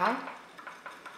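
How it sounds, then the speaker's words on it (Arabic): A spoon stirring powdered sugar into lemon juice in a bowl, a brief scrape at first, then a few soft faint clinks, close by. "راح نضيف ملعقة كبيرة من السكر الناعم لعصير الليمون ونخلط حتى يذوب"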